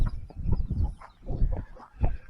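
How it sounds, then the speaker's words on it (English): A chicken at a compound clucks in short, close, irregular bursts, with low rustling and movement noise between the calls. "we've got ourselves a chicken here at the compound"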